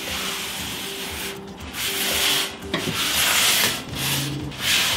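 Loose debris being scraped and brushed out of an oven interior: repeated rough rubbing and scraping strokes, close and steady, with no talking.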